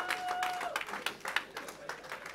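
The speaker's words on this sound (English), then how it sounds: "Come on, clap for Jesus." A church congregation claps for Jesus at a pastor's urging, with a burst of scattered applause and a few faint voices through it. It sounds moderately close and fairly quiet.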